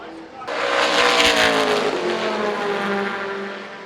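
Race cars roaring past on the circuit at Killarney, a loud sustained engine wash that swells and fades with tire noise, with people talking faintly underneath.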